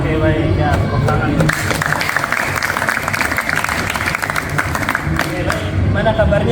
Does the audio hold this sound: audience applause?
yes